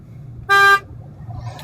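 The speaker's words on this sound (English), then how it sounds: "people are honking" A single loud car horn blast sounds briefly at a national park where a bison stands near the road, over low traffic rumble.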